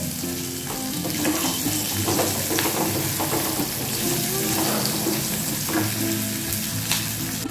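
Medium potato pieces, cut into nine, fry in oil in a pan with kalonji, giving a continuous dense sizzle with occasional stirring scrapes, fairly loud and close.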